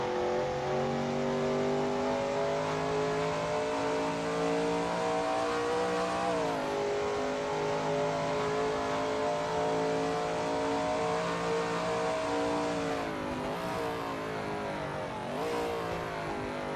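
Shelby Mustang GT350R race car in a sim racing game at Goodwood Circuit, its engine droning loud and steady with rising revs and a couple of sharp downshift dips through corners, heard alone throughout.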